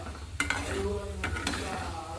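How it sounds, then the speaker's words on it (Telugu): Dried red chillies and mixed tempering spices sizzle in hot oil for a bitter gourd curry, a faint crackle under a spoon stirring and scraping against the pan in a few sharp clicks. "ఇప్పుడు మనం అదే ఆయిల్లో పోపు దినుసులన్నీ వేసేసుకున్నాం"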